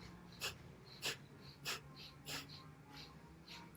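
Slow, deep breaths during a breathing exercise come as about six soft airy whooshes spaced roughly evenly apart, close and quiet over a faint background hum.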